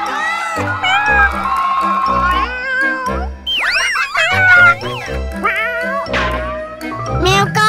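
Kittens meow repeatedly in a busy children's play scene, the high wavering cries overlapping with lively voices and cartoonish sound effects, loud and close.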